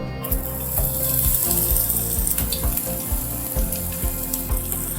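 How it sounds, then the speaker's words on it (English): Sliced onions sizzling in hot refined oil in a pan, a steady crackling hiss with irregular pops and spatters throughout, loud and close. "Once the oil is hot enough, I'm going to add some sliced onions."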